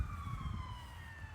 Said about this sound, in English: let's start setting off the sirens